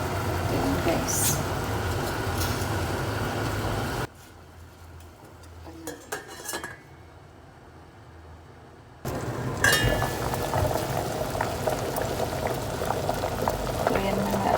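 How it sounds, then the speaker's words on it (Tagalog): A pot of vegetable soup broth with sweet potato boils vigorously, with a dense, loud bubbling that drops to a quieter stretch midway before surging back, while someone talks over it. "So, yan na nga at kumukulo na."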